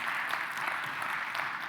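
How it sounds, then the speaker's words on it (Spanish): Steady applause from a conference audience at the Digital Trends Summit in Bogotá, a soft continuous patter of many hands heard from a moderate distance. "un gran aplauso para Quadient"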